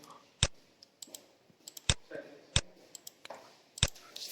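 A computer mouse clicks while working with a shape in CorelDRAW, four sharp isolated clicks spaced irregularly and close by, with soft room noise and faint tapping between them.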